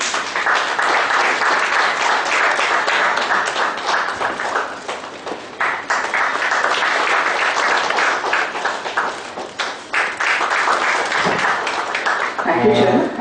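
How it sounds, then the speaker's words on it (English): Audience applause at a one-day seminar inauguration on GST, dense sustained clapping from a crowd filling the whole stretch, briefly dipping and swelling again, with a few voices mixed in. "A round of applause, ladies and gentlemen."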